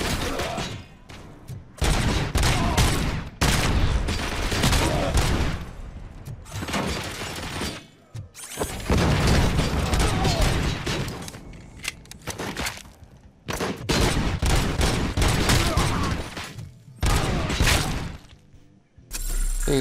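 Gunfire in the Robocop: Rogue City video game, loud irregular bursts of shots with shattering and breaking debris, repeating in clusters across the whole stretch with brief gaps between volleys.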